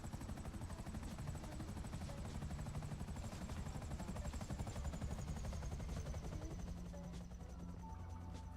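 Helicopter in GTA V on PS3 with a damaged rear propeller: a steady, low rotor thrum and engine whine drone continuously, fairly faint and unbroken, with a few small sharp ticks mixed in.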